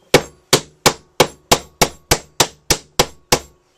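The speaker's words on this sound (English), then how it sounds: "So I'm going to start with a hammer. Basically, I've just been hitting it." A hammer strikes a wooden board to distress it, eleven sharp, evenly spaced, loud blows close by, each ringing briefly, with no talking.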